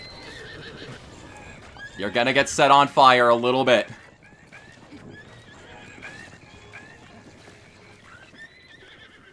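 Horses in the Zelda: Breath of the Wild game let out a loud, close whinny lasting about two seconds, with faint hoofbeats and game sounds around it and a person talking over the scene.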